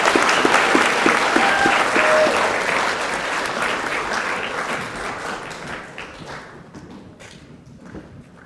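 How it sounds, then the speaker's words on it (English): An audience at a high school prize-giving applauds the school choir, a loud burst of clapping that gradually thins and fades out. "Round of applause for our choir."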